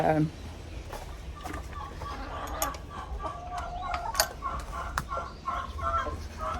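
Hens cluck and murmur softly at close range inside a chicken coop, in short irregular calls over a low background, while a person talks now and then.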